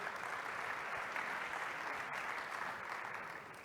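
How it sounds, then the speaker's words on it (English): An audience at the UNESCO NGO Forum 2017 applauds steadily. The sound is a dense, even wash of many hands clapping that stays constant throughout and eases off slightly at the end. "Let's give Her Excellency another round of applause"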